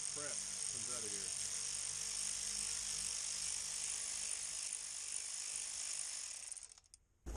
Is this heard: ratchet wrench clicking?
yes